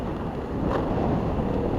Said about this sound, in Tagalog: Pero yung hangin, parang malakas pa rin ang hangin dito.